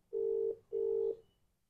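A telephone ringback tone sounds on an outgoing call: two long steady beeps separated by a short gap, fairly clear and alone, with the line falling quiet afterward.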